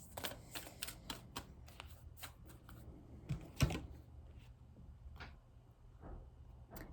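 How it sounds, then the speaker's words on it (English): Moonology oracle cards being shuffled and drawn, a quiet run of soft papery flicks and taps with one sharper snap near the middle, close and alone with no talk. "Let me pull one of these Moonology cards."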